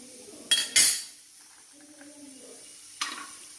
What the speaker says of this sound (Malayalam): ഇനി നമുക്കിതിലേക്ക് കശുവണ്ടി ഇട്ട് കൊടുക്കാം